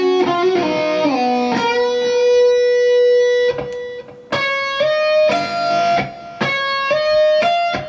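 A guitar lick from a solo, played alone and close: quick bent notes and slides give way to a long sustained note, then crisp plucked notes ring out in a clear, deliberate rhythm.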